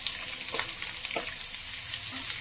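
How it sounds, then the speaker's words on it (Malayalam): Chopped onion, ginger and green chilli fry in a pan with a steady high sizzle, while a spoon stirs through them and scrapes softly a few times. "നന്നായി ഇളക്കി കൊടുക്കുക"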